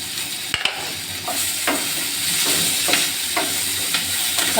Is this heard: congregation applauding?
no